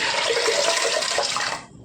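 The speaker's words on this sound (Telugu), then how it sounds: "ఒక గ్లాస్ పప్పుకి 4 గ్లాసులు నీళ్ళు వేసుకుంటున్నానండి" Water pours steadily into a pot of lentils for a couple of seconds, a bright splashing rush that cuts off near the end.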